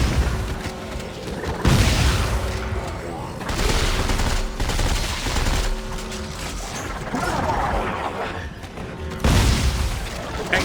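Shotgun fire in the sci-fi horror shooter Dead Space 3, several heavy booming blasts over a dense, noisy game soundtrack with mechanical clanks between shots.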